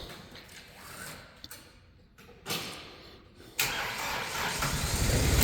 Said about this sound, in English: There's your Kohler coming to life.